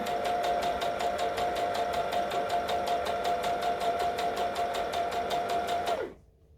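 A sewing machine stitches a Halloween costume neck piece in one steady, rapid run of even clatter with a humming motor tone, close and clear, then stops abruptly.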